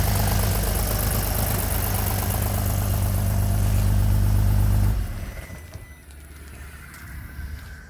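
An Audi TT with a 3.4-litre VR6 engine idles close by, a loud, steady low rumble for about five seconds before it drops away to a quieter, softer idle.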